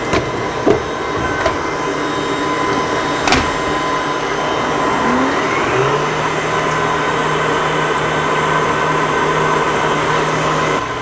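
Ozone electric hand mixer beating cake batter with sugar at medium speed, a steady close whirring drone with a few clacks against the bowl and a slight shift in pitch midway.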